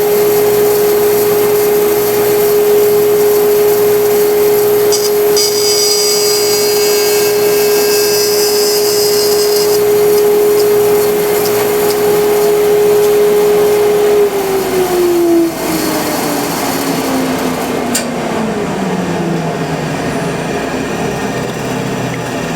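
A Laguna Resaw King bandsaw resawing a board, a loud steady motor whine with a constant blade tone that drops away as the saw is shut off and winds down near the end, no voices.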